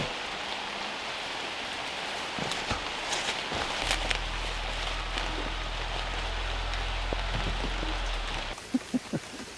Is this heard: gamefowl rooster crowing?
no